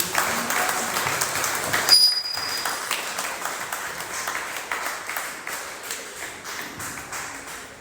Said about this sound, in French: Acclame très fort pour le Seigneur Jésus.